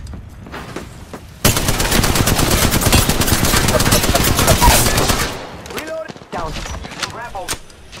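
Sustained, loud automatic gunfire in an online battle royale shooter as the player comes under attack, a dense burst of rapid shots lasting several seconds before dropping away to quieter game sounds and brief voice chatter.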